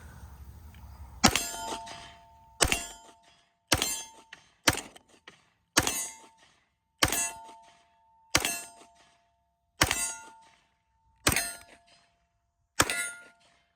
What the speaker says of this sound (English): we're gonna put 10 rounds through this USP 9mm